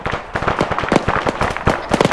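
Rapid crackling bursts of video-game gunfire pop irregularly through a base defense under attack, dense and fairly loud, with overlapping cracks.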